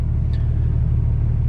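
A tuned diesel pickup truck's engine drones at a low, steady rumble while the driver tries for a burnout, loud and close with no break in the sound.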